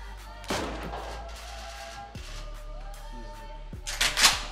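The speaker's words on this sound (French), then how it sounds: "C'est toi qui a tiré?" Gunfire in the survival video game DayZ: a few sharp, booming shots spaced a second or two apart, fairly distant and reverberant over a low ambient rumble.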